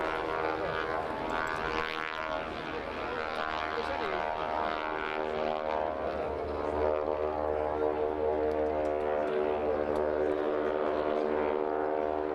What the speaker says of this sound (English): taxiing down the runway